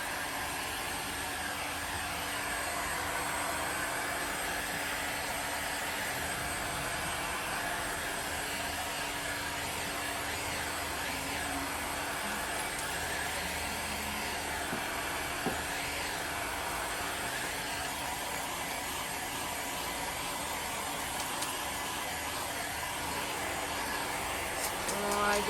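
A hair dryer blows steadily on a coat of white paint, a loud continuous whooshing drone that runs unbroken from start to finish.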